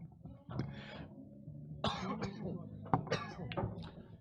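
Several rough coughs and throat-clearing bursts come in quick succession, fairly close.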